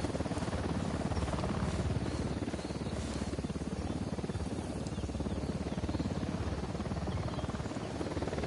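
An enemy helicopter in the video game Ghost Recon Wildlands drones with a steady, loud rotor buzz that holds throughout, with no talking over it.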